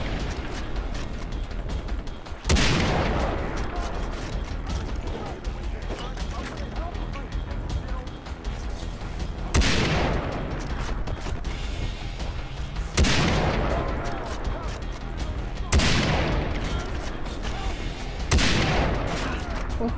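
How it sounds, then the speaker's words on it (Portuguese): Repeated bursts of gunfire in Far Cry 3 crack out at irregular intervals, several sharp loud volleys each trailing into a decaying echo over steady game ambience, with someone talking in between. "Onde que estão atirando em mim?"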